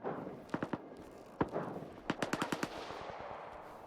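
Several sharp bursts of gunfire in the video game S.T.A.L.K.E.R. 2: Heart of Chornobyl, in quick clusters, with short volleys of rapid shots and a single heavy crack, over a steady background hum.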